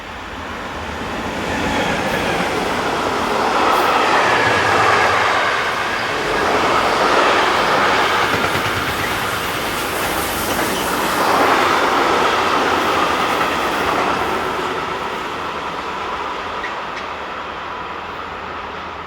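A Class 185 locomotive hauls a freight train from München to Gremberg Yard, a long steady rumble of rolling wagons and wheel clatter that swells and ebbs as the cars pass, with no talking.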